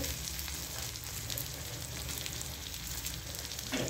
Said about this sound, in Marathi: कांदा पण छान असा तेलामध्ये भाजला जातो